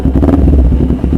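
A Kawasaki Ninja 250 FI motorcycle engine rumbles loudly and close by, its deep exhaust throbbing in uneven pulses as the throttle is worked.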